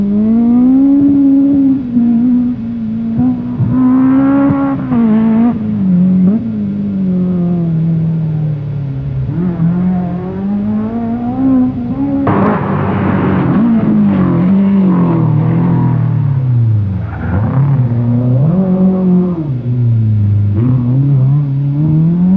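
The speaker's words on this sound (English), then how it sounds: "Somehow Roger Clark gives the impression he's done this before, with a beautifully controlled drift through the hairpins." Roger Clark's rally car drifting through hairpins, its engine revving up and down in a loud, wavering drone that surges and falls with each corner, close and dominant.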